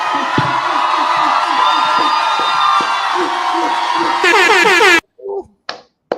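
Audience cheering and whooping after a spoken poem, a steady crowd roar that builds into a loud surge before cutting off, followed by a few brief voices.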